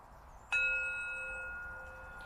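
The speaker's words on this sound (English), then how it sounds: "I use a singing bowl to lead us into the practice" A singing bowl struck once to open a meditation practice, a clear close strike followed by a steady, slowly fading ring that sustains to the end, in a quiet room.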